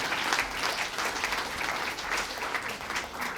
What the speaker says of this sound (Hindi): आप तालियों से उनको बधाई दीजिएगा।